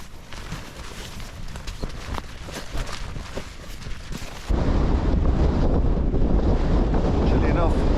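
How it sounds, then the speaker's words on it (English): Wind gusting across open Irish countryside farmland, a steady broadband rush buffeting the microphone that turns louder and rougher partway through, continuous with no breaks. "the wind's blowing this direction, so I don't want to get too close just yet"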